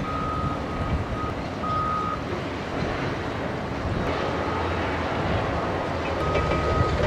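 A 3 km conveyor belt carries soil down from the mountains to raise the ground in tsunami-flattened Rikuzentakata, Japan. It makes a steady, loud mechanical rumble with a high warning beep sounding on and off.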